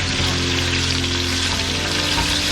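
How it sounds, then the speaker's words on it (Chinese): Oxtail pieces pan-frying in oil give a steady, close, dense sizzle with fine crackle, continuous and even for the whole stretch, with a low hum underneath and no talking. "所以说我们慢慢都把它煎过，煎得越久越香"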